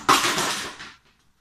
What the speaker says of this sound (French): Ça, ce que vous venez d'entendre, c'est moi qui, avec mon gros cul, fait tomber la poubelle